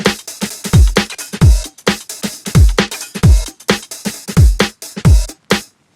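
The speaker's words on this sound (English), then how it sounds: "And then in the chorus, they sound like this." Bright, open pop drum pattern in a chorus with little filtering: punchy kicks falling in pitch and crisp snare and hat hits repeating in a steady groove, loud and alone, ending in a short tail.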